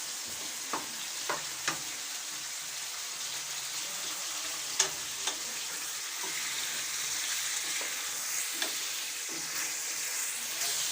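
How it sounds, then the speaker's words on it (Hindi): Chicken frying in hot oil in a karahi, a steady close sizzle and crackle throughout, with occasional sharp pops and spatters and light stirring scrapes, no talk. "चिकन को हम इसमें अच्छी तरह से फ्राई करेंगे।"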